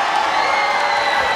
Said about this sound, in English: Big crowd ovation for Brandt Cooper.